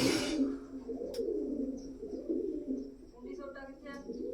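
Domestic pigeons coo softly in low, rounded murmurs, with a brief burst of wingbeats at the start and scattered chirps later, heard close and moderately quiet in a loft-like space.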